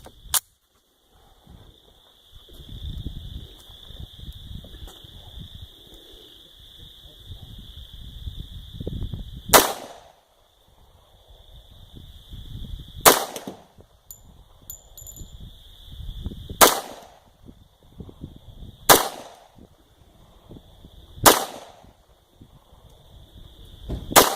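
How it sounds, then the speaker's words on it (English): Pistol shots from 230 grain lead round nose reloads at an outdoor range: six sharp, loud reports spaced a few seconds apart, with handling noise and a steady high tone between them. "I'm using some of my reloads, my 230 grain lead round nose."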